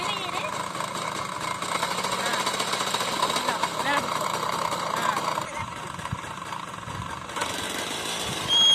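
A scooter engine runs with its throttle twisted gently, a loud, steady, rattling idle hum that rises slightly, while people talk over it.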